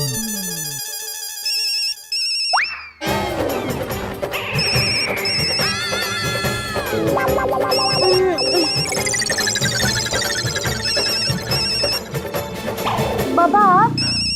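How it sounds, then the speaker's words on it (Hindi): A phone's electronic ringtone plays late at night in a home, a loud, bright, repeating melodic chime that continues over other sounds and voices. "इतनी रात गए कौन फोन कर रहा है?"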